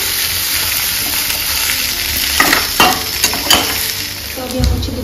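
Chicken frying in hot oil in a kadhai, a steady sizzle running throughout with a few louder stirring scrapes and clinks near the end.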